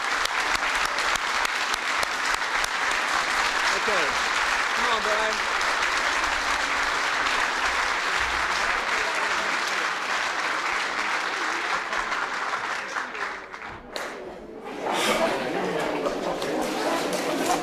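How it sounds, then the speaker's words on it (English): Sustained applause from an audience honoring members of Congress at a 1994 presidential bill signing for Human Services Amendments, steady and dense for most of the clip, thinning near the end as someone speaks briefly. "I'd like for all the members of Congress who are here to stand and be applauded by the rest of us"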